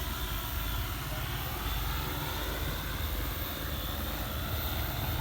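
Agricultural crop-spraying drone in flight over fields during pilot training in Bac Ninh, a constant rotor drone with a steady buzzing hum throughout, fairly faint and distant, with no talk.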